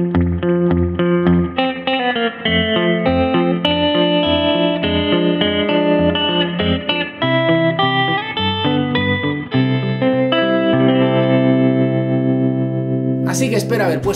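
Muted Nashville-style country guitar played with a thumb pick and reverb, a steady run of clipped, plucked notes with ringing tails, loud and close, ending with a brief noisy burst.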